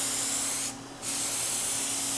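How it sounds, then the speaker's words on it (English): A Fuji Q5 HVLP turbine sprayer lays down clear woodworking finish with a steady, loud airy hiss that cuts out briefly for a moment, then resumes at the same even level. "You want to get good surface coverage on the edges as well, so you'll be spraying at an angle first."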